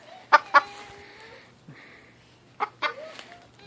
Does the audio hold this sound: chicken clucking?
yes